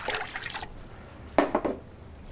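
Water from a jug pours into a preserving pan for marmalade, in two short splashing bursts separated by a pause, close and fairly soft.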